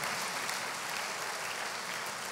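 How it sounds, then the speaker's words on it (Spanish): Church congregation applauding during a Spanish-language sermon on prayer, a dense, steady wash of many hands clapping throughout, fairly distant and even in level with no talk over it. "Dele un fuerte aplauso a Jesús esta mañana."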